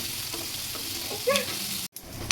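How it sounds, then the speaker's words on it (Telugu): Chicken pieces frying in a pan over a medium flame give off a steady close sizzle, with a brief stir and a short clatter partway through. "ఇప్పుడు మళ్ళీ ఫ్రై చేసుకోండి మంచిగా కొంచెం కలర్ మారినంత వరకు ఫ్రై చేసుకోవాలి"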